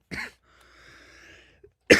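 A man at a press conference, recovering from the flu, coughs twice, close and sharp, with a short quiet gap between the coughs.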